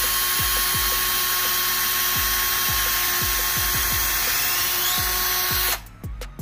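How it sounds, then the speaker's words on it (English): A power drill boring through two pieces of wood whines continuously, loud and close, with repeated low thumps as the bit works, cutting off abruptly at the end. "we're gonna drill a hole through both pieces of wood"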